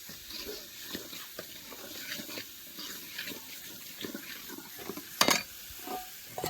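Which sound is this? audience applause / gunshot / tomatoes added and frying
tomatoes added and frying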